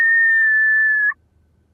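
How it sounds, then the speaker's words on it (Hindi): One steady, loud whistle from a person, held for about a second as a signal before it cuts off, followed by a brief sharp noise. "तू बस इशारे से हमें जो है समझा दियो, वो भी सीटी मार के ऐसे।"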